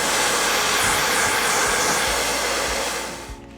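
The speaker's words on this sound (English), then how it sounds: "If you're going to blow dry, just remember to blow dry with the nozzle going down your hair." A hair dryer blows steadily and loudly while hair is dried with the nozzle pointed down the hair, then switches off near the end.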